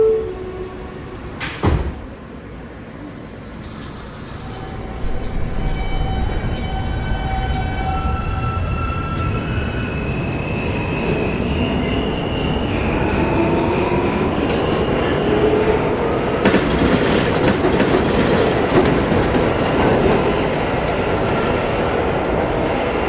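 An R160A subway train on the G line in a Roblox game runs steadily and loudly, its rumbling motor and rising whine continuous from start to finish after a brief sharp clank near the beginning.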